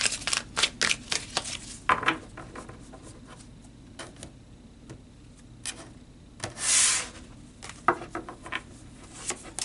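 Tarot cards are shuffled and handled up close, quick riffling bursts and soft rubbing swipes in irregular clusters, fairly quiet and with no talking.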